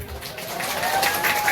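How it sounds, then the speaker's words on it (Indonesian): An audience at a humorous Sundanese sermon for the Prophet's birthday gives a steady wash of crowd applause, even in loudness throughout, with a faint tonal hum running underneath. "tepuk tangannya mana?"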